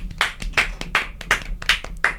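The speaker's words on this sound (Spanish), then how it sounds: "Aplausos." Scattered claps from a small group, a few hands beating in loose, uneven bursts at close range, with no voices over them.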